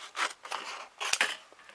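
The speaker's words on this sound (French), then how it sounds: "Donc mon papier est coupé." Scissors snip through gold paper at a craft table during die-cutting, a few quick close cuts with crisp crackling bursts and short pauses between them.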